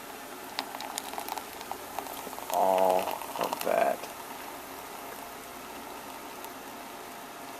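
Coffee from a Bialetti Moka Express pot splashes into a mug in one short pour, then a brief second trickle. A voice speaks softly around the quiet pouring.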